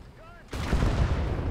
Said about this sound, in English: M18 taking shots at it.